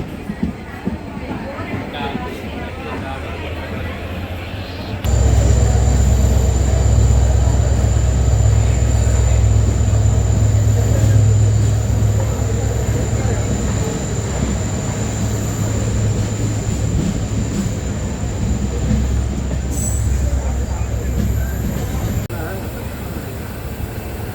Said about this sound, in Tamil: அந்த ட்ரெயின் வந்துட்டு கிளம்பிடுச்சு